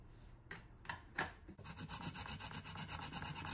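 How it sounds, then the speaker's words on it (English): Cooled mashed potatoes are grated by hand for hash browns. A few separate scraping strokes are followed by a steady run of quick, rhythmic rasping passes, close and fairly quiet. "We're gonna start grating the potatoes."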